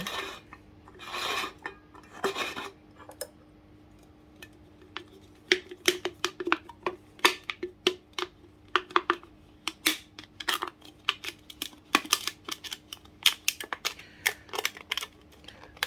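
Scoring a groove into thin aluminium can metal for a homemade alcohol stove, heard as a run of sharp, dry scraping and clicking strokes in an irregular rhythm, close and fairly quiet, with no talking.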